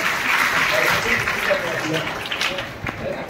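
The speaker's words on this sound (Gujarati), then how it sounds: "જોરદાર તાળીઓ" An audience at a book release ceremony during a World Tribal Day celebration in a community hall gives a burst of sustained applause, with a voice speaking over the clapping.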